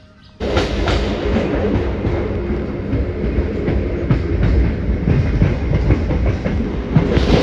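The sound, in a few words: riding inside a moving passenger train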